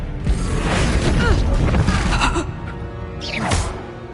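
The Expelliarmus disarming spell is cast in Hogwarts Legacy, heard as a booming impact with crackling debris and swishing effects, then a second sharp magical burst, all loud and near.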